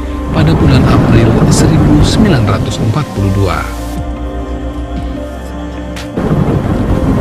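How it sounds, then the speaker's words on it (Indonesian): Thunder rumbles during a heavy rainstorm with lightning, a loud broad roar of rain and deep rolling booms, while someone narrates over it. "hujan turun begitu derasnya, disertai gelegar guntur dan kelihatan petir yang menyambar-nyambar disertai badai"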